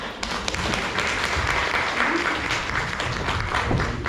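Applause from an audience at a meeting with a writer, a dense steady patter of clapping lasting the whole moment at moderate distance, with voices mixed in.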